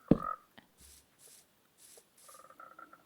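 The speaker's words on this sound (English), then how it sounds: "These frogs are making it such a joy to play the game." Frogs in the video game LylaBug make a handful of short, soft croaks and chirps, opening with one louder call and followed by quieter, spaced-out notes against near silence.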